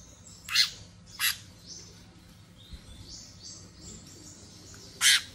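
Small sunbirds, sold as five-colour sunbirds, give sharp high chirps: two close together near the start and one more at the end, with soft twittering calls between them. No voices are heard.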